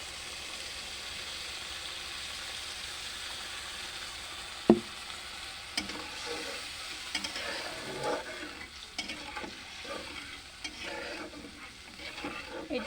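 Egg curry masala with coconut milk sautéing in a pan, a soft continuous sizzle at low level with an occasional clunk and scrape of stirring.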